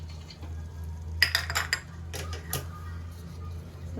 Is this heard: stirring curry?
yes